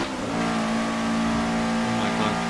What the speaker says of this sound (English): Listen to this turbo. The blow of sound. And this boxer engine, legendary Subaru engine.